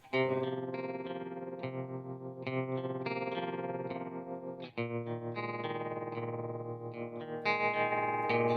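Electric guitar through a TC Electronic Pipeline tremolo pedal rings out sustained chords with a pulsing, wavering volume and a chorused, slightly distorted tone, played alone at moderate level.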